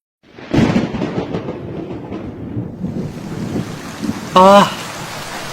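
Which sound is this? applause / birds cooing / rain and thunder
rain and thunder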